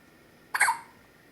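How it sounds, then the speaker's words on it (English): A baby's hiccup sounds once, a quick squeaky gulp heard up close after a moment of near silence, then decays away. "Our second set of hiccups in 2 days."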